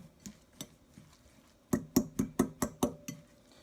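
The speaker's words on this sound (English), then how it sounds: "All right, so let's stir this together" A utensil clinks against a bowl while stirring a zucchini mixture seasoned with garlic salt: a few soft taps, then a steady run of about six sharp, evenly spaced knocks, close and fairly loud.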